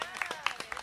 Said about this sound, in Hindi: भाई वन्या के लिए जोरदार ताली बजा दो।